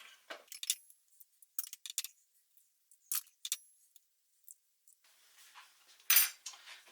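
Eggs and oil are whisked together in a bowl, producing intermittent bright metallic clinks and rattles in short bursts, with quiet gaps between them.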